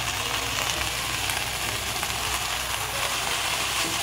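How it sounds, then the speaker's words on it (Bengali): Cabbage, carrot, beans and capsicum frying in hot oil, giving a continuous even sizzle and crackle close by, with no talk over it. "তেলটা গরম হয়ে এসছে মোটামুটি, দিয়ে দিলাম বাঁধাকপি।"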